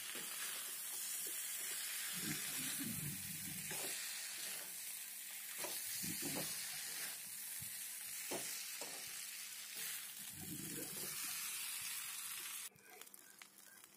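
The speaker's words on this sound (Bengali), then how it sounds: "এবার গরম মশলাটাকে একটু ভালো করে এটার সাথে নেড়ে চেড়ে নিচ্ছি।" Spices being stirred into a fish head curry of katla in a hot pan, giving a steady sizzle and frying hiss throughout with soft intermittent scraping and stirring bursts, close and continuous, no talking.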